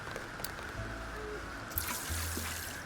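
Water trickles and pours from a watering can onto plants in Hello Kitty Island Adventure, a soft steady splashing stream lasting a few seconds at moderate level with no talk.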